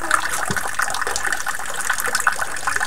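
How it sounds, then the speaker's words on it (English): Water drains from a cup through a straw in a small model dam, a steady, close gushing and trickling flow with no talk. "So as the cup kind of drains out"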